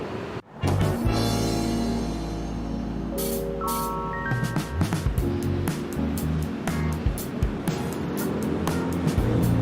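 A 1991 Suzuki Esteem car engine runs steadily at idle close by, a continuous low mechanical rumble with a few brief clicks and knocks over it and no one speaking.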